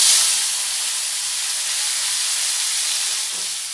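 Cut potatoes fry in hot oil with turmeric, giving off a steady, fairly loud hiss and sizzle that holds almost unchanged throughout, with no voices.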